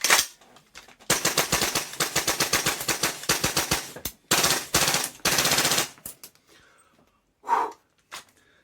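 A stock Tokyo Marui MWS airsoft rifle fires rapid automatic bursts from its stock magazine, sharp close mechanical rattles in several strings separated by pauses, followed by quieter clicks and a faint breath.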